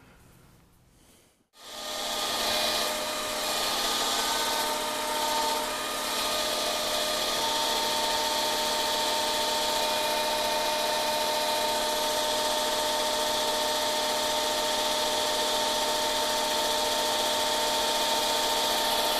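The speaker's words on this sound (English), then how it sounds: "Just a starter drill here." A drill cuts a starter hole while mounting a vise, starting after a brief quiet moment, then a loud, steady motor whine with a continuous grinding hum that runs on without pause.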